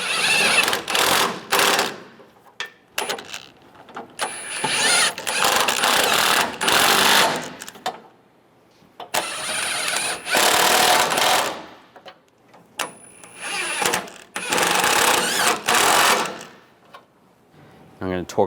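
A power tool tightening bolts on the front bumper of a 1999-2006 Chevrolet Silverado 1500, loud close bursts of buzzing and hammering separated by short pauses.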